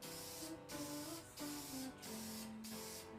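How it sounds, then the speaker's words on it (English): Krylon Fusion Gloss Black spray paint hisses from an aerosol can in several bursts of broadband spray, with a steady tonal hum running underneath. "the spray paint that I use is Krylon Fusion Gloss Black"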